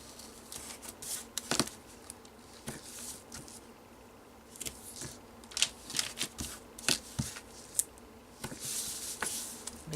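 Tape is pulled and pressed onto the hinges of a postcard album in soft, scattered crackles and sticky rips, close and quiet, coming in irregular bursts over a faint hum.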